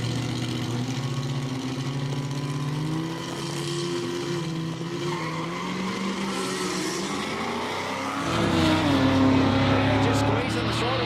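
A Datsun 1200 fitted with an R35 V6 engine pulls hard down a drag strip at a Quick Street event. Its engine note climbs steadily in pitch and grows louder near the end, under a commentator's talk.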